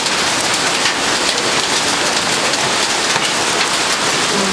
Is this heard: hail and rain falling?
yes